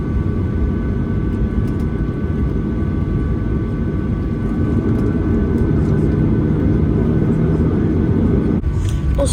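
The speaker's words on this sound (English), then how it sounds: "Now time for what I think is going to be a pretty long taxi to the runway." Inside the economy cabin of a Qantas Boeing 737-800 taxiing toward the runway at Sydney, a steady low engine drone and rumbling hum continue unbroken, with a faint thump near the end.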